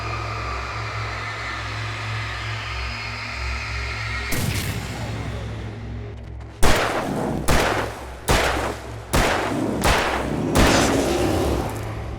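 Gunfire from the video game Alan Wake Remastered: after a stretch of low rumbling ambience, a sudden sharp blast rings out, followed by several loud, widely spaced shots, each with a brief decaying tail.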